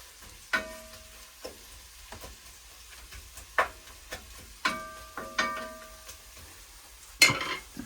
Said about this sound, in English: we'll give that a little stir in there